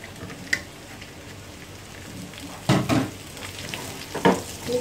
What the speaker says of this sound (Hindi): चिकन जो फ्राई की हुई है ऐड कर देंगे इसमें।